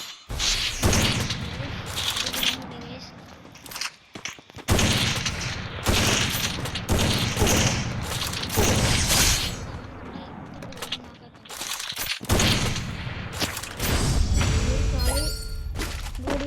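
Gunfire in the Free Fire video game, with bursts of rapid shots and heavy booms coming in waves, loud and close, separated by brief quiet gaps, with talk partly mixed in.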